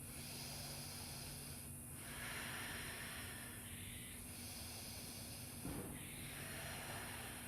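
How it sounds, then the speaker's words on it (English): Slow, deep breaths during a yoga Sphinx pose on a trapeze flow, soft airy inhales and exhales at a relaxed pace over a constant low hiss, with no talking. "2 rounds of breath."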